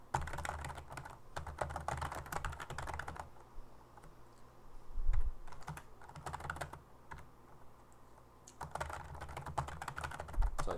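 Rapid clattering keystrokes on a computer keyboard come in bursts, close and fairly quiet, with a pause of sparse taps in the middle before the steady typing resumes.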